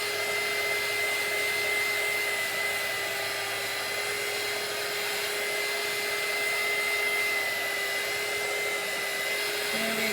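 A handheld hair dryer runs continuously as it dries a printed t-shirt, a steady close whirring roar with a constant whine and no break for ten seconds.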